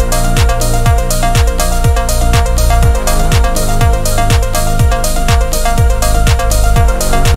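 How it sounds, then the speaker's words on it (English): Rich synth melodies and sustained pads of a progressive house track, layered over a steady pumping kick and bass, loud and full, with no voices. "big, rich melodies and pads that are filling up the rest of the spectrum"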